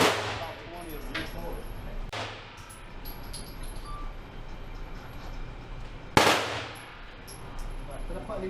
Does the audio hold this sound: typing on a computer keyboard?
no